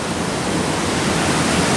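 A river running unusually high after heavy overnight rain rushes in a loud, dense, unbroken roar, close and steady for the whole moment.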